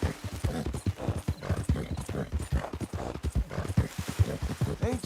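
Horse hooves clip-clopping in Red Dead Redemption 2, a quick steady rhythmic trot heard close and moderately loud, with a faint whinny and some voice underneath.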